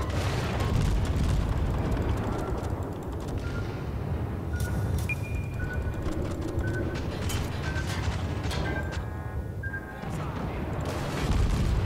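Ship explosions and combat in a crew-based naval video game: a dense, loud rumbling roar of booms and blasts with mechanical clanks and a few short tonal blips, continuous throughout.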